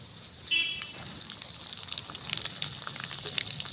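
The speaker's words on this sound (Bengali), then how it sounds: "তেল গরম হয়ে গেছে এইবার আমি দিয়ে দিলাম" Jhorna pitha batter frying in hot oil, a steady soft crackle and hiss close by with a brief louder bubbling burst early on, no talking.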